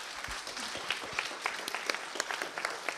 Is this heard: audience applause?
yes